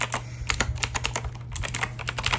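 Rapid clicky keystrokes on a Razer BlackWidow mechanical keyboard, a close, dense patter of sharp taps over a faint steady hum.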